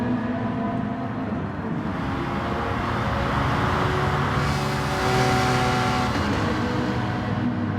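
Racing cars in a GT racing game at the Red Bull Ring drone steadily down a long straight, engines close and loud, one car tucked in behind another's bumper.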